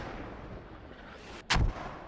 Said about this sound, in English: And mortars still going out on Courtyard.